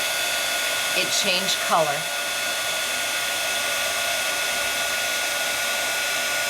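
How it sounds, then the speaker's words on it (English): A heat tool blows hot air onto embossing powder in a steady, even hiss that runs unbroken, with a brief spoken comment near the start. "hold my heat tool in place until I start to see"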